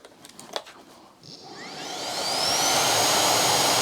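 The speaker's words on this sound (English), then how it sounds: "I'm going to try and talk over the noise of the vacuum" A Bosch Unlimited 10 BBS1041GB cordless vacuum cleaner spins up from quiet, its whine rising in pitch and then settling into a loud, steady roar.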